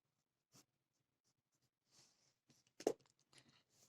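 Pen writing a maths solution on paper, with sparse soft scratches and strokes, close and quiet, including a slightly louder tap-like stroke near the end amid near silence.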